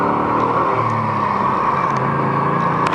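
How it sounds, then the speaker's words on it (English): A 2004 Pontiac GTO engine drones steadily from inside the car as it shifts through the gears, a loud, continuous hum with no breaks and no voices. "Shifting through the gears."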